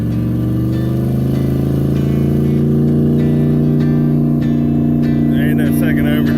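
A truck with a built 4L80E transmission revs hard and loud in second gear, its engine note climbing and straining continuously close by, with a brief rattle near the end.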